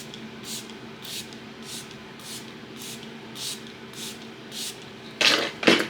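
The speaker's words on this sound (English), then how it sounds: "So as I'm spraying my face, I'm going up and down" A misting spray of makeup setting spray hisses in short, regular puffs onto a face, about nine in a row, ending with two louder, closer bursts.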